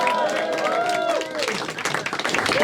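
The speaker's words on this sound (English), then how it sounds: "He's going to get the biggest applause out of anybody ever, because you have to keep clapping while he turns this thing around." A comedy club audience at an Edinburgh Fringe comedian heat claps and applauds loudly and steadily, with a voice calling out over the dense crowd noise.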